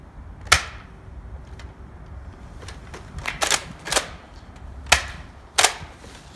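Nerf Elite 2.0 Echo CS-10 toy blaster firing foam darts: several sharp, close pops with uneven gaps between them, a few fainter clicks mixed in, no talking.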